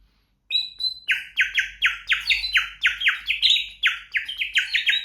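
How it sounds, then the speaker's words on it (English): Warbling trills from an unpainted ceramic bird water whistle filled with water, a steady run of rapid bubbling chirps repeating close and loud with no talking. "we have the unpainted ceramic bird water whistle"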